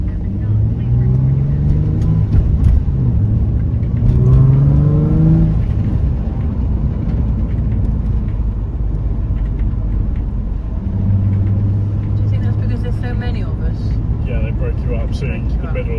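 A performance safety car circulates on the Castle Combe track, its engine note rumbling and rising in a couple of revving swells, heard fairly close amid steady background noise while a commentator talks over it.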